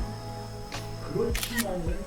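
Smartphone camera shutter clicks sound as a couple of short, crisp ticks during a photo session, close to the microphone, with people talking over and between them.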